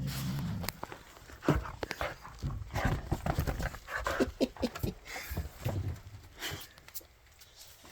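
A dog pants close by in quick irregular bursts of breathy huffs, mixed with shuffling movement, moderately loud and without talk.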